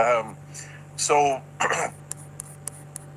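A voice speaks briefly and a throat is cleared in a short rough burst, followed by a few faint clicks in a quiet room.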